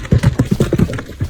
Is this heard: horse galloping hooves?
yes